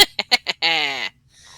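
Chickens cluck in the Shire in the Lord of the Rings Online video game. A few quick clucks are followed by a drawn-out squawk and then a faint call, close and clear.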